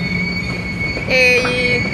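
The freight train La Bestia rolls past in Mexico, a close, loud rumble of wagons with sharp, sustained squeals from the wheels on the rails.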